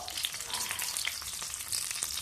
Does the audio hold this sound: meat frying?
yes